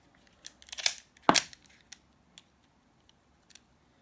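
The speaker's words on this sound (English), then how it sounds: "I'm going to grab my Stanley knife." A Stanley knife scrapes and cuts old Teflon tape off a threaded fitting in a few short, sharp bursts of scraping and snipping, then faint scattered clicks follow in a quiet room.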